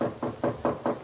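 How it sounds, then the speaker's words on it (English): Five crisp knocks on a door in an evenly spaced rhythm, close and clear, a sound effect from a 1947 radio drama. "he knocks at Professor Stuart Rogers' door"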